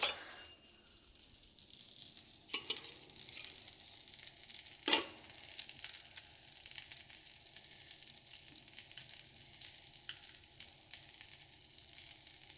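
Steady, quiet sizzling of prawn gravy simmering in a pan, with a soft clink partway through and a faint metallic tap near the end.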